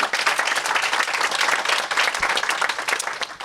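A crowd at a startup feedback event breaks into steady applause, dense clapping filling the room throughout with no voice over it.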